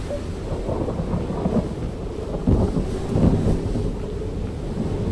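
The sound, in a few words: storm in Edge of Eternity video game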